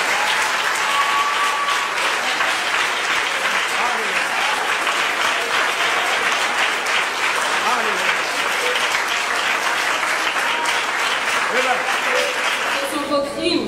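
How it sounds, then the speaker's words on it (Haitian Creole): A church congregation applauds steadily and loudly for the whole stretch, a dense wash of clapping close and all around with no break. "Applaudis mon Dieu ça, applaudis mon Dieu."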